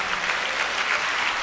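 A church congregation at a live Sunday service claps together in praise, a dense, steady wash of many hands applauding at close range with no voices rising above it.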